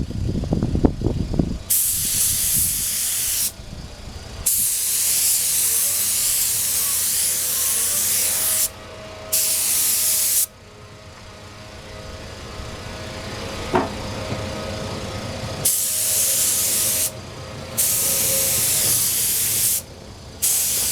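A spray gun lays pearl paint onto Yamaha FZ600 motorcycle parts in long bursts of loud, close hiss, broken by short pauses between passes.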